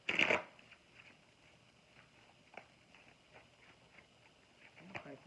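Tarot cards are shuffled in one brief, close burst at the start, followed by faint soft handling taps and rustles of the deck over a quiet background.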